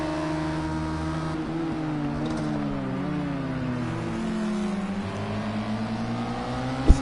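Radical SR3 race car at Hockenheim, its high-revving engine droning down the straight with clear harmonic tones that shift as gears and speed change, loud and continuous, ending in a sharp click.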